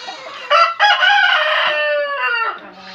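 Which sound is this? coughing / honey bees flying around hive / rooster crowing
rooster crowing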